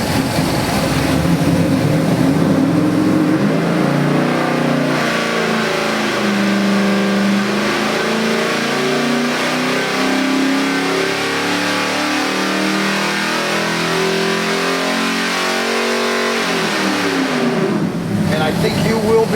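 A 1966 Chevelle with a rebuilt 454 big-block V8 roars loudly through a sustained rev on a final dyno pass, its engine note climbing steadily for about fifteen seconds before dropping away.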